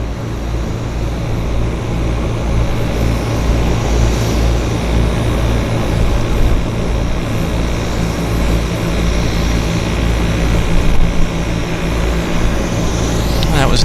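Loud, steady engine roar as an airplane touches down on the runway at Vancouver Airport (YVR), a sustained close rumble that swells slightly near the end, with voices underneath.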